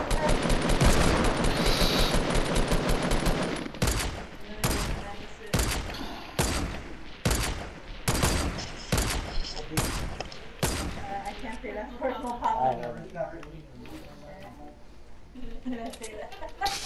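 Rapid bursts of automatic gunfire in the video game Fortnite, a dense volley followed by a long string of separate loud shots in irregular rhythm, with voices talking over and between them.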